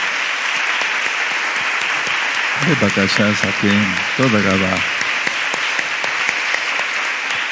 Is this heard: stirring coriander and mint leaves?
no